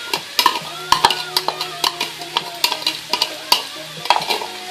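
Peppers and cilantro go into a hot frying pan with tomatoes and sizzle steadily, while a utensil knocks and scrapes against the pan in quick, uneven strokes throughout.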